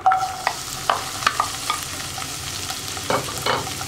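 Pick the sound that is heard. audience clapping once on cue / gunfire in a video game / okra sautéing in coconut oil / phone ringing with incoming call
okra sautéing in coconut oil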